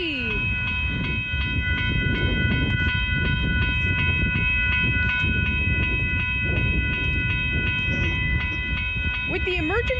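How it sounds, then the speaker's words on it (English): GO train passing a road crossing at Lockhart Road in Barrie, with a rapid series of urgent emergency horn blasts over the steady rumble and clatter of the train, plus a crossing bell ringing. "With the emergency horn blast. Full sequence, by the way."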